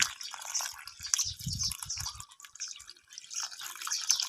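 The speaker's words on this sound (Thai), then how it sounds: "เอาน้ำรดให้มันชุ่มๆ เลยนะครับ" Water poured over a freshly transplanted aloe vera plant to soak the soil, giving soft dripping and trickling splashes in bursts, fairly close and moderately quiet, with no talking.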